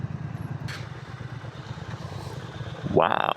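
A Lexmoto LXR motorcycle engine runs steadily and fairly close, a low rumbling drone that stays even throughout, with a brief louder surge near the end.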